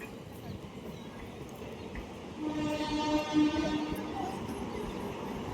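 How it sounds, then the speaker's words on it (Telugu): A small Secunderabad–Siddipet passenger train passes Dayanand Nagar station without stopping, rumbling steadily while a long horn blast sounds in the middle, fairly close over background noise. "సికింద్రాబాద్ టు సిద్దిపేట్ ట్రైన్ అండి."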